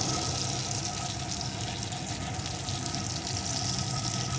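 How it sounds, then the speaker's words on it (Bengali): Water pours into a pan of potato curry for a koi fish and eggplant dish, a steady close rushing splash with no talk. "এখন এর ভিতরে আমি দিয়ে দেবো পরিমাণ মতো জল"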